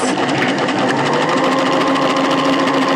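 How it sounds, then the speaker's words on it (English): A sewing machine stitches across a pocket opening, joining the facing at a 1.5 cm seam allowance; its motor hums steadily and close throughout with no pauses. "So we're sewing across the pocket opening."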